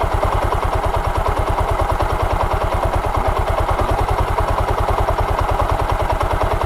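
A Hero Honda Platina motorcycle idles after a carburetor adjustment, its single-cylinder engine thumping in a fast, even rhythm, loud and close, steady throughout with no speech.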